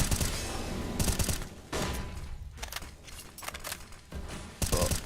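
Grenade blasts in a Counter-Strike style esports match, a burst of loud explosive bangs and gunfire-like cracks rolling one after another over a few seconds, up close and dense.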